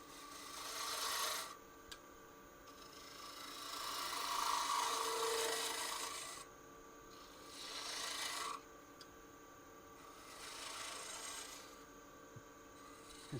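Lathe tool cutting a cove into a spinning holly wood vessel, giving a steady rasping, scraping hiss in several long passes separated by short pauses, close and clear with no talk.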